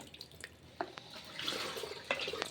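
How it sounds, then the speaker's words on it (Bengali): Soaked cow dung fertilizer water is strained, giving faint, close trickling and scattered drips with a few soft splashes, and no voices. "এই ভিজানো জলটাকে আমি এইভাবে ছেঁকে নিই"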